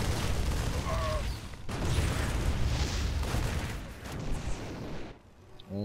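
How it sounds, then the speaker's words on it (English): StarCraft video game battle sound as Marines fire on siege tanks, dense continuous gunfire and explosive booms that stay loud and busy, then drop off near the end. "the Marines from behind trying to shoot and destroy the tanks"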